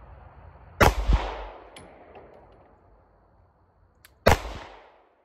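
Two loud, sharp rifle shots fired at a target outdoors without a Radian Ramjet, a few seconds apart, each with a short echoing tail.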